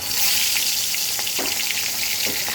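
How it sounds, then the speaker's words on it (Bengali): Prawns fry in hot oil in a wok, a loud, dense, steady sizzle close by with a few soft stirring scrapes. "এবার আমি মাছগুলো ভেজে নেব কড়াইতে তেল গরম করতে বসিয়ে দিয়েছিলাম"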